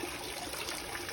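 Water trickling steadily from the tell-tale tube of an outboard motor during a freshwater flush with a Jabsco quick-connect flusher, a continuous soft dribbling splash with no talk.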